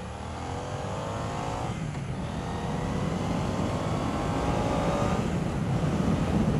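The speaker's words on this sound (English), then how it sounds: "I'm enjoying myself riding a nice bike like this." A motorcycle ridden on a crisp autumn afternoon, its engine droning steadily and rising gradually in pitch and loudness as it gathers speed, heard close with wind rush and no talking.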